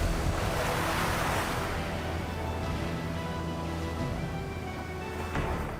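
Sea waves wash onto the shore in a continuous surf roar, loudest at the start and easing slightly, with no one speaking.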